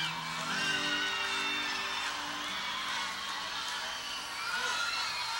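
A concert crowd at the Planeta Atlântida 2001 festival applauds, whoops and cheers for a singer, a sustained, fairly distant roar of many voices with no clear pauses.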